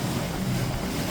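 A sailing boat's hull pounds through lumpy seas, with a dense, continuous wash of water and wind roar filling the whole moment, loud and close.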